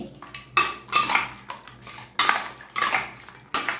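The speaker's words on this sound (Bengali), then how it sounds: "এবারে সব কিছু দিয়ে এই মাংসটা খুব ভালো করে মাখিয়ে নিতে হবে" Repeated clinks and scrapes of a utensil against a bowl as mutton is mixed with spices and oil, coming in uneven bursts, close and fairly loud.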